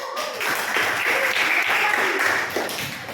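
Students in an Indonesian classroom clap together after a classmate answers, a brief burst of lively, fairly close clapping that swells and then trails off.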